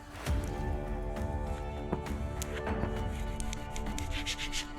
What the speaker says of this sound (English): and just slowly let it fall down while I'm pushing with the squeegee